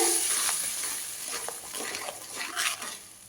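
Mustard gravy for a fish curry bubbles and sizzles in a pan, with soft crackles and pops spread across a quiet, fairly close texture.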